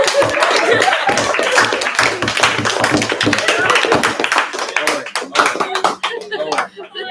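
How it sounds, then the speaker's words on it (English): A Maker Faire audience applauds for Sarah with dense, loud clapping close by, mixed with chatter, then the claps break into sparse, separate slaps near the end. "A round of applause for Sarah."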